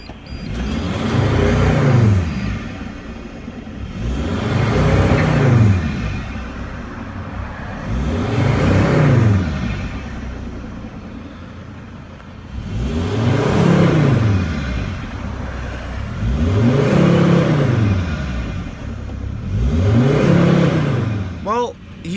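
A Mercedes Sprinter van with a P299 turbo underboost fault revs up six times in a steady cycle, each rise and fall of the engine note repeating every few seconds, loud and close.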